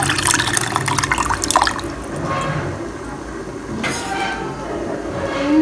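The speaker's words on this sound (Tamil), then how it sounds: "இதில் கொஞ்சம் புளி தண்ணி சேர்த்திக்கலாம்." Tamarind water is poured into a pot of carrot and lentil rasam, giving a splashing, trickling stream that is loud at first and then eases off, with kitchen noise around it.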